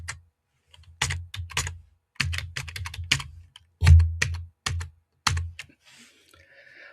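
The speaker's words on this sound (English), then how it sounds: "so I'm going to type in my password." Quick bursts of clicking keystrokes as a password is typed on a computer keyboard, close and crisp, in uneven clusters with short pauses between them.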